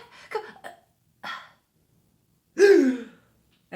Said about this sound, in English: I still have a bit of a cough, that like deep bronchial cough